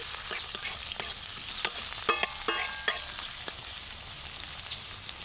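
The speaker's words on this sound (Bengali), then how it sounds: "পেঁয়াজ দিচ্ছি পেঁয়াজটাকে একটু ভালো করে ভেজে নিচ্ছি" Chopped onions fry in a pan with a soft, steady sizzle, punctuated by a handful of sharp clinks and scrapes from stirring, close and without any speech.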